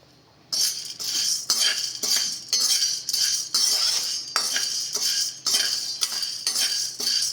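Sago pearls and lentils dry-roast in a pan, stirred with a metal utensil in repeated scraping, rattling strokes, about a dozen bursts in quick rhythm, close and clear with no voices.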